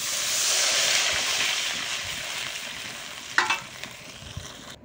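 Spice paste for fish curry sizzles steadily in a frying pan, then water is poured in near the end with a short, louder hiss and splash. No one speaks.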